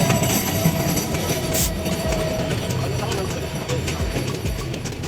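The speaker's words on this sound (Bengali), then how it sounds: "সাথে চলছে দূর দূরান্তে চকচকাচক ট্রেন" Train rolling through Laksam Junction railway station, a continuous loud rumble of wheels and cars with a brief high squeal, steady throughout and mixed with faint voices.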